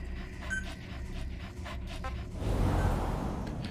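A dog companion in Metal Gear Solid V pants in quick, steady breaths up close, rising into heavier, noisier panting partway through over faint game ambience.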